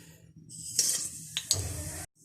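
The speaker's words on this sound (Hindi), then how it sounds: "तेल हल्का सा गर्म होगा तो हम लौंग, मेथी दाना और जीरा डाल देंगे।" Cloves, fenugreek seeds and cumin hitting warm oil in a pan for fish curry, a sudden close hiss and crackle after a faint stir, with two brief clinks of utensil on pan before it cuts off.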